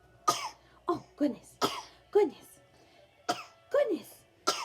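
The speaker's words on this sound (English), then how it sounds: "Cover your cough." A child coughs repeatedly in short bursts, some mixed with throat clearing, and briefly speaks between them.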